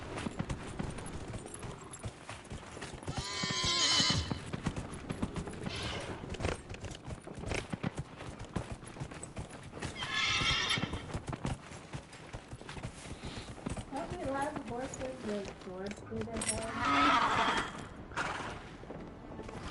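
A horse steed in the video game Dragon Age Inquisition gallops with a steady clip-clop of hooves, broken by whinnies and neighs partway through, all heard up close with no talking.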